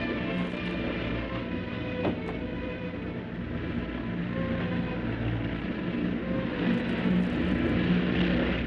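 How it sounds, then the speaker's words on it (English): Propeller aeroplane coming in to land, heard as a steady, loud engine drone with a rough low rumble that holds throughout and swells slightly toward the end, with no voices over it. "An aeroplane!"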